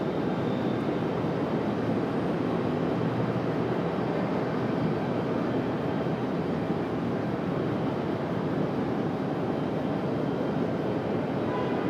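An aircraft comes in to land on runway 23 right at Raleigh-Durham International Airport, a steady broad roar of engine and air noise, constant and fairly distant, with no talking.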